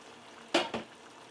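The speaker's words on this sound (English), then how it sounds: "And it all poured out." Canned coconut milk gushes out all at once in two quick, close splashing glugs over a low steady kitchen background.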